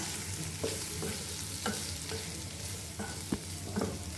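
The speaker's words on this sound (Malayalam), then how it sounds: "ഇത് നല്ലപോലെ ഒന്ന് മിക്സ് ചെയ്യണം കേട്ടോ" Carrot mixture with coarsely ground masala stirred in a pan, a low sizzle under a few distinct scraping stir strokes, close and with no talking.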